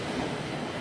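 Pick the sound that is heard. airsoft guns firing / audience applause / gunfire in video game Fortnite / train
train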